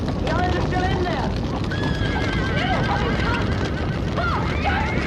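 Frightened horses neigh and whinny repeatedly with hooves clattering during a barn fire, over a dense, noisy roar of commotion and shouting voices throughout.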